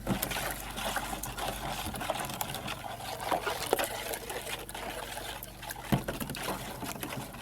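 A wooden spoon stirs jello mix in water, a steady soft liquid swishing and trickling that runs continuously with small clicks of the spoon, close and fairly quiet.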